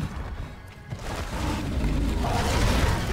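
A nitro toad blows up in Monster Hunter World during an Uragaan fight, a heavy booming explosion that rumbles and swells loudly over about three seconds.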